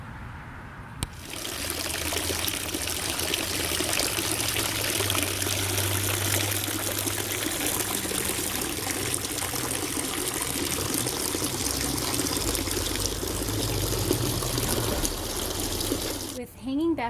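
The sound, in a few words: plant pot set into tub of liquid fertilizer, water trickling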